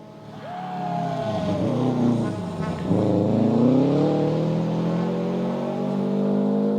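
A rally car on a brand new stage of the Tall Pines Rally approaches from a distance, its engine note rising and swelling as it nears, with a sustained droning tone and no talk.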